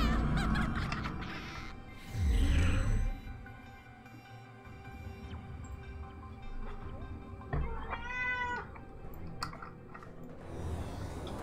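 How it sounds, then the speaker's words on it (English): A cat meows in the online game Wildstar, one rising drawn-out meow near the middle over steady game ambience and music, fairly clear and close. "I agree, cat. Meow."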